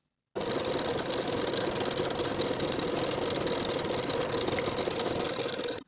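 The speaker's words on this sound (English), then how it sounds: "I'll sew each of my pockets in place with a 1/4 inch seam allowance." A sewing machine runs continuously and close by, stitching pockets onto a knit dress at a 1/4 inch seam with a fast steady mechanical chatter that starts abruptly and stops at the end, with no voices.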